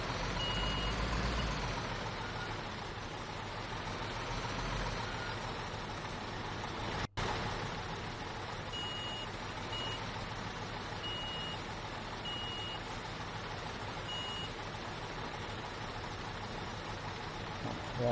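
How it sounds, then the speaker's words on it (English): A truck in Construction Simulator 2015 reverses with its engine rumbling steadily, and a series of evenly spaced high reversing beeps sounds above it in the second half, with a faint voice in the background. "Let's reverse the other truck up to the mixer,"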